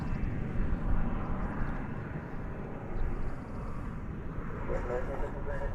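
A jet airliner rumbles at DFW airport as American flight 1953 to Los Angeles lines up for takeoff, a steady broad roar from a distance that holds through the whole stretch, with voices talking over it.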